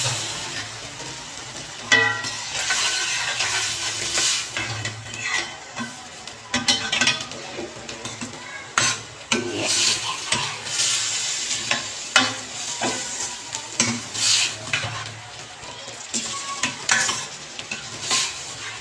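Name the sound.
boiled black chickpeas being stir-fried in a pan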